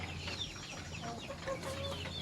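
A young cockerel being trained for mating clucks in a run of short, close, nasal calls over a faint steady background hum.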